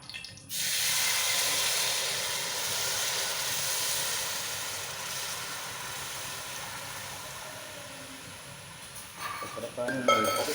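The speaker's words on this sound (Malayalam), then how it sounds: "ചക്കരപ്പാനി ഒഴിക്കുകയാണ്." Jaggery syrup is poured into hot ghee in a pan, giving a loud, steady sizzling hiss that starts abruptly and holds for several seconds before fading, with a few clatters at the end.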